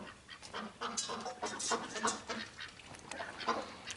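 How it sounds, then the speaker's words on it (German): Loud, busy honking and quacking from several ducks overlapping continuously, fairly close, with calls bursting out irregularly throughout. "Ja, die Enten im Hintergrund sind so laut."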